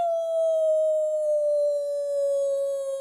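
A voice imitates a long, sustained howl, one unbroken note that holds steady and slowly drops a little in pitch, loud and close with nothing else behind it.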